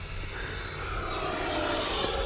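Twin-fan RC EDF A-10 Thunderbolt II warbird model jet making a pass at full throttle, a loud, steady high-pitched ducted-fan whine and roar that swells slightly as it goes by.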